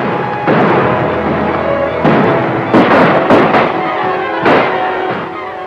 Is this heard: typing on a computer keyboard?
no